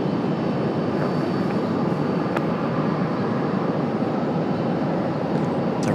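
An Aer Lingus airliner at Raleigh-Durham International Airport gives off a steady, loud jet engine roar that holds unchanged throughout, with no talk.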